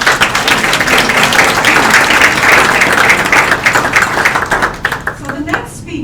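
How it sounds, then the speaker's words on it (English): Audience applause at the Maranyundo Isi Yagutse 2022 event: dense, sustained clapping from a crowd that holds steady and then thins and fades toward the end. "How about another round of applause?"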